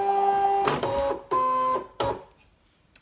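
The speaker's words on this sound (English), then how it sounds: "So I'm just going to put the mat into the machine." A Brother ScanNCut cutting machine draws in a cutting mat with stop-start motor whirring in a few close, distinct bursts, then falls quiet.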